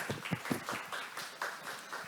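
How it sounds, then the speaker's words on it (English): An audience at a seminar on domestic and overseas stock listings applauds to welcome a presenter to the stage, a steady wash of many hands clapping at moderate distance, fairly soft and continuous. "Please welcome her with a round of applause to the stage"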